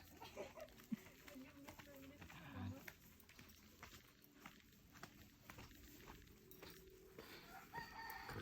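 Scattered chickens clucking and a rooster crowing in the background, with people talking and footsteps nearby, outdoors on Limasawa island, Philippines.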